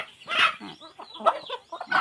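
Young fighting-rooster chicks cluck and squawk in quick uneven bursts, close and fairly loud, several overlapping calls rising and falling across two seconds with brief gaps between.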